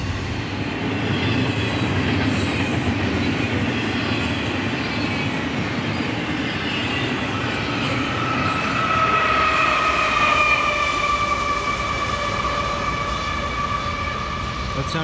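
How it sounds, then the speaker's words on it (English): A Union Pacific freight train rolls past at Tehachapi with a loud, continuous rumble and rattle of wagons, while a horn-like tonal wail rises in over the second half. "Out here enjoying trains."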